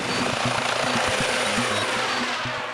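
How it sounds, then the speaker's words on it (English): Essex Police Air Support Unit helicopter heard close and steady, a loud continuous rotor and engine drone with rhythmic low blade thumping throughout, no voices. "The Air Support Unit is Essex Police's fast response helicopter team."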